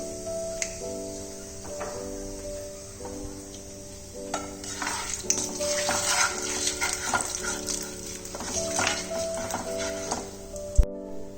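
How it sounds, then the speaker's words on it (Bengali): Black cumin seeds hit hot oil left in the pan after frying prawns and crackle with a soft, continuous sizzle, stirred now and then, under steady background music. "ওই সেম তেলটার মধ্যে আমি কালো জিরেটা ফোড়ন দিয়ে দেবো।"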